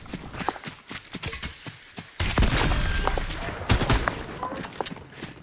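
Fortnite gunfire rattles in sharp bursts of shots, some isolated cracks and some rapid volleys, loud and near, with a heavier surge of firing midway.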